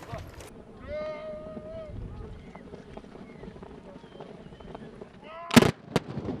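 Fantasia horse riders fire their guns in a volley, a sharp loud burst of two close cracks near the end, following a stretch of crowd noise, hoofbeats and voices.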